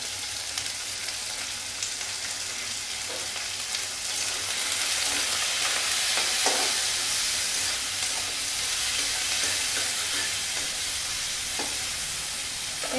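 Ivy gourd (kundri) frying in a pan with salt and a pinch of turmeric, a steady close sizzle rising slightly midway, with occasional soft stirring knocks and no talking.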